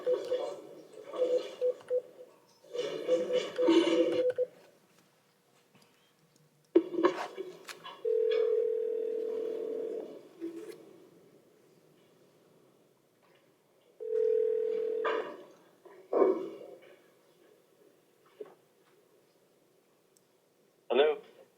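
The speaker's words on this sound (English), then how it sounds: "We're gonna get Mr. Cole on the line." A courtroom telephone on speakerphone places a call during a bond court session. Bursts of talk alternate with two long steady dial tones and short keypad beeps, all fairly faint and heard through the speaker.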